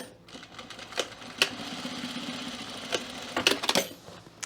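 A sewing machine stitches a 1/4 inch seam on a fabric cocoon project bag, a steady mechanical whir broken by a few sharp clicks and taps, close by with no talking.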